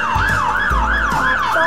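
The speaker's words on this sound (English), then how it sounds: "Siren" A fire engine siren wails loudly and up close in quick, regular rising-and-falling sweeps, with no talking over it.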